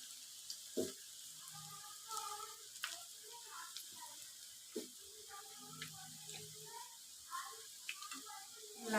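Puffed rice pakoras frying in hot oil, a soft steady sizzle with scattered pops and stirring clatter close by, broken by brief kitchen knocks.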